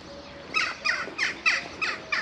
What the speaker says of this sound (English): just the bird song here